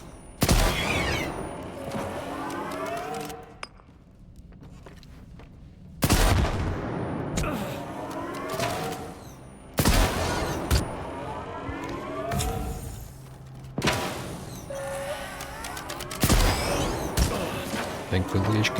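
Bursts of automatic rifle fire in STALKER 2 crack out in repeated volleys, loud and close, with pauses between them and someone talking over the shooting.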